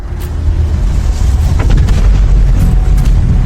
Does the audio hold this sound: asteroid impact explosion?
yes